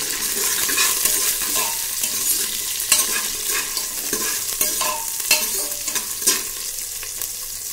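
Onion, chili and garlic sizzle steadily in a hot pan while a utensil stirs and scrapes, with occasional sharper clinks against the metal.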